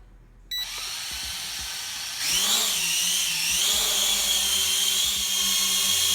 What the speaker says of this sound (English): Let's use the auto takeoff.